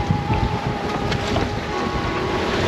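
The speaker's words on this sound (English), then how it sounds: "The waves are starting to stack up a little bit as I approach this shoaly pass area between the islands" Steady wind rush and broken wave wash around a sailboat underway, approaching a shoaly pass between islands, with constant close, loud wind noise on the microphone and no voices.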